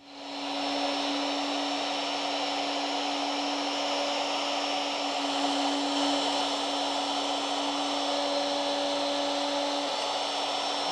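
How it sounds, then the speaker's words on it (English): A router steadily cutting a mortise into chair wood, a continuous loud whine with a steady hum that holds evenly throughout, with no talking. "the travel that the router will go as it's cutting the mortise"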